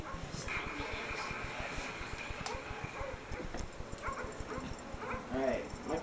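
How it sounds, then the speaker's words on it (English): Attack dogs from a killstreak in Call of Duty: Black Ops bark and yip repeatedly amid dense gameplay noise, with footsteps or hoof-like clatter and a voice talking over the commotion. "I'm calling the dogs."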